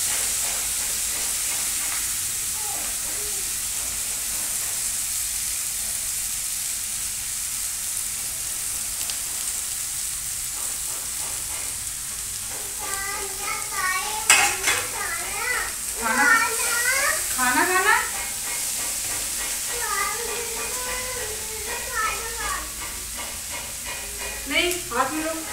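Potatoes and fenugreek leaves frying in a pan with turmeric powder, giving a steady sizzle and hiss with stirring scrapes throughout, while a voice and other speech break in over the cooking in the second half.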